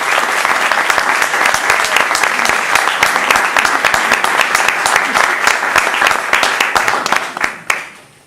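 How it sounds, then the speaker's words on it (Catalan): A concert audience at a Barcelona Bach society applauds a classical guitarist, loud close crisp claps packed in a sustained round that tapers off with a final few scattered claps. "un aplaudiment per ell"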